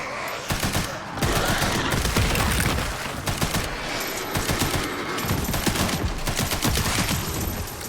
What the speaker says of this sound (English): Alright, time to try this new gun out.